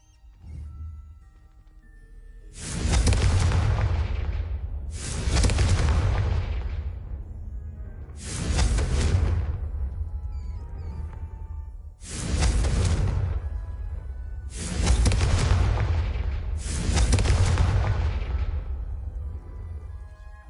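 Six loud Confringo fire-spell blasts go off in Hogwarts Legacy while braziers are being lit. Each is a sharp booming burst with a rumbling tail, spaced a couple of seconds apart, with no voices.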